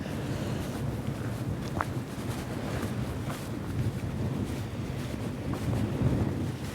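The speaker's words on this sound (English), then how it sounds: "It's a bit blustery." Strong gusty wind buffets the microphone on the Isle of Harris, Scotland, in a continuous rushing roar, with faint creaks and clatter mixed in.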